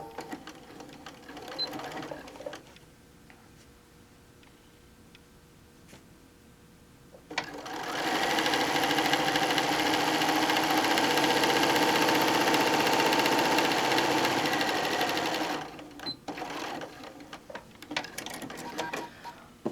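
Sewing machine stitching an appliqué quilt block, a steady mechanical whir lasting several seconds after some quieter handling, then stopping.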